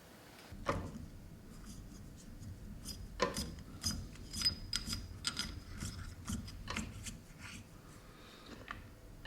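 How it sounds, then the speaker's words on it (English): The group head assembly of a Bezzera BZ10 espresso machine being screwed into place: intermittent scraping, rasping metal-on-metal rubs and small clicks at an uneven rhythm, close and moderately loud, with no talk. "then you can screw the whole assembly in"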